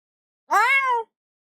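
A single clear cat meow, close and isolated in silence, about half a second long with a rising-then-falling tonal call and no talking around it.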